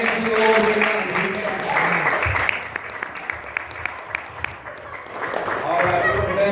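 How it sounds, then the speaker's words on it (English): Church congregation at a baptism service clapping hands together, a dense burst of applause with sharp claps and voices mixed in, loud and close. "Let's clap our hands to the Lord."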